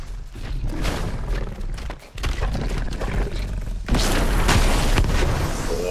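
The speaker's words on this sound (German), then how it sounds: "Ich habe Dynamit." Dynamite goes off in the LEGO Fortnite survival game, several heavy booming blasts in quick succession with rumbling low thuds, one bigger explosion near the end, loud and close with no talk over it.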